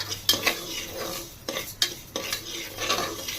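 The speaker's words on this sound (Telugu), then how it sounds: "స్టవ్ వెలిగించి స్టవ్ మీద కుక్కర్ పెట్టి ఈ పప్పు మొత్తం కొంచెం దోరగా ఫ్రై చేసుకోవాలా" Moong dal being dry roasted in a pressure cooker on the stove, stirred with a utensil that scrapes and clinks against the metal several times over a faint sizzle, close and with no talk.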